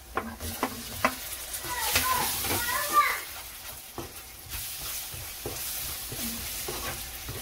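Tomatoes fry in a spiced masala for a potato curry: a sizzling hiss broken by regular clacks of a spoon stirring against the pan, with voices chattering in the background.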